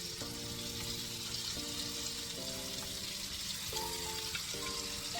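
Burgers destined for Salisbury steak frying in a pan over medium heat, a steady broad sizzle running continuously throughout with faint shifting tones beneath, no talk.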